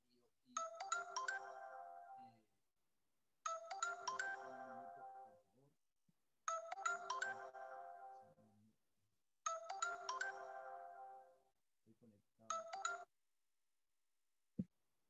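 An incoming WhatsApp call rings on a phone in five repeated electronic melodic bursts with gaps between them, heard clearly at moderate volume in a quiet room.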